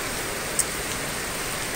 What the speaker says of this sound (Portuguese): olha a chuva, olha como tá forte